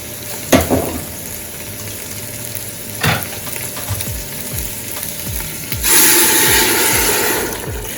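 Seasoned meat sizzles and fries in a hot pan, with a few clinks and stirring sounds, then water is poured in and sets off a sudden loud hiss that fades slowly.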